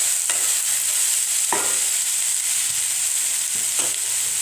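Potatoes stirred into masala rice in a pan, with a few distinct scraping strokes over a constant hiss of frying, close-up and without speech.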